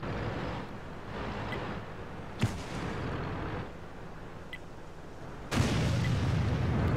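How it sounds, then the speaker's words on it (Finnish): Cannon fire in a video game, a couple of deep booms with sharp onsets rising out of steady rumbling ambient noise, spaced a few seconds apart, with no voices. "Tykki ampu. Tykki taas ampua."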